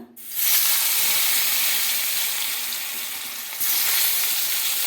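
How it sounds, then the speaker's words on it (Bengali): Potatoes drop into hot oil in a pan and set off a sudden loud, steady sizzle that holds throughout, rising again briefly near the end as the pieces are stirred. "এদিকে আমি আলু আর বেগুন নিয়েছি, এগুলো একসঙ্গে ভেজে নেব"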